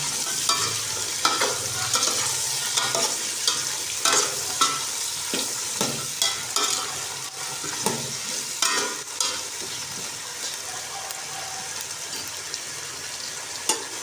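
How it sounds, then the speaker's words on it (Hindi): Potatoes and peas frying in a pot for aloo matar pulao are stirred repeatedly, giving a steady sizzle broken by close scraping spoon strokes in an irregular rhythm, with no voices. "अच्छे तरीके से हम इसे मिक्स करेंगे।"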